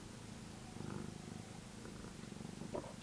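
A cat purrs softly and steadily close by, a low continuous rumble running through the whole stretch, with faint room noise and no talking.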